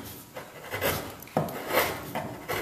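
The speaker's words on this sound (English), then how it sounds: "I just take the chisel and peel it" A chisel peels and shaves back a wooden Dutchman patch on a 1946 Chris Craft Brightside boat hull, making soft rasping scrapes in several short strokes, close and fairly quiet.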